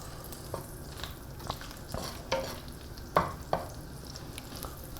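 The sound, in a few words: smashed garlic frying in a pan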